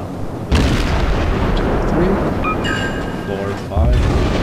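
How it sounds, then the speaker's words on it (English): A destroyer launches torpedoes at a battleship in World of Warships, with booming naval gunfire and explosion rumble throughout, loud and continuous, and a voice talks over it. "Time to launch torpedoes."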